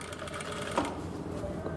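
A sewing machine runs steadily, stitching piping close to the edge along a round neckline, with a continuous mechanical whir and no speech.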